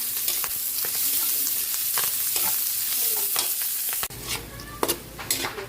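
Garlic and onion sizzle in a hot oiled pan, a steady close hiss broken by spatula stirs and scrapes, with a sudden shift in the frying sound partway through and no talking.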